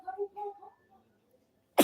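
A single loud, sharp burst of sneezing at the very end, breaking in alone after a stretch of quiet talk by a man who is short on sleep.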